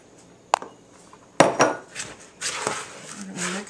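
A utensil scrapes and clinks in a bowl while sugar, pecans, cinnamon and graham cracker crumbs are mixed together. Bursts of irregular clattering run close and fairly loud, with a few sharper knocks.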